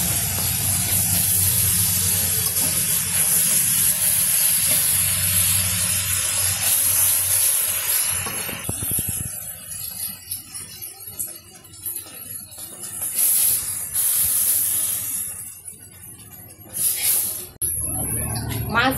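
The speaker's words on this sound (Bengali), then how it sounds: "এখন মাছ ভাজবো কড়াইতে তেল দিয়ে দিতেছে" Boal fish fries in hot oil in a kadai, a loud steady hiss and sizzle that thins and flares in bursts, with voices talking over it at times.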